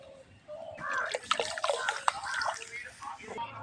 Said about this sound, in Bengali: এখন কড়াইয়ের মধ্যে আমি এখানে দুধ দিয়ে দিচ্ছি।